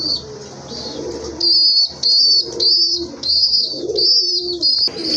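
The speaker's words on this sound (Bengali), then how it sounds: "আর এখন কিন্তু দেখতে পাচ্ছেন আরেক জোড়া কবুতর" Pigeons coo in repeated loud, close, warbling calls, several throaty phrases one after another with brief pauses. A fainter chirp and a little wing movement sound underneath. No one speaks.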